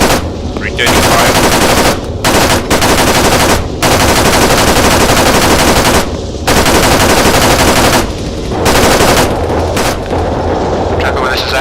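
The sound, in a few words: gunfire from Arma 3 video game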